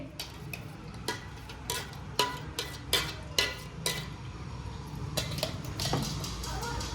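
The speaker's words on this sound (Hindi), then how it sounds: "तो अब हम ये सॉस है ना इस चलनी में डालेंगे।" Thick homemade tomato ketchup is poured into a metal sieve in a home kitchen, giving a series of sharp clinks and scraping taps of utensils against the mesh and bowl, close and fairly loud, with no talking.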